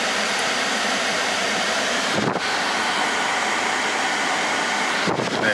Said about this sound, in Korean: 블로모터 소리.